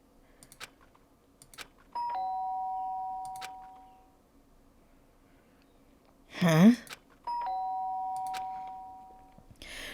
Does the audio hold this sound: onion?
no